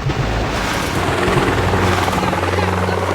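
Helicopter gunships in the Boom Beach warships mode make a loud, continuous rotor chop that fills the whole stretch without any talking.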